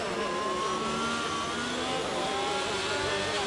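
Several race cars, including a Haas, fight three wide into a corner in a sim racing league race at Brazil or Imola. Their engines make a dense, steady, high whine that stays loud throughout, with no talk.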